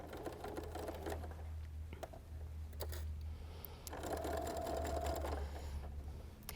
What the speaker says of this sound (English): want to really make sure that you're sewing 1/4 inch